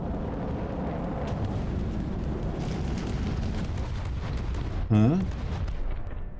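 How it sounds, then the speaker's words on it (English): Incendiary cluster missiles burst during a naval battle in From the Depths, a dense continuous roar of blasts and crackling under a brief spoken exclamation. "I want to see if these missiles actually reach the target. These are clusters."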